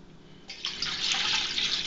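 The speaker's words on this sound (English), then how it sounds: "pour 6 cups of water into my pot" Water pours steadily from a container into a pot, a hissing splash that starts abruptly and holds at moderate loudness close by.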